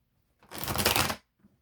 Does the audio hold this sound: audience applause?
no